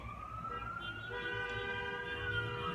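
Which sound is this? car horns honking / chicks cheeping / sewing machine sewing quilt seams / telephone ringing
car horns honking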